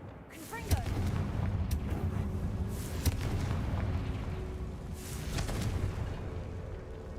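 A fiery Confringo spell blast in Hogwarts Legacy, a booming explosion with a rumbling roar and several sharp impacts over continuous game noise.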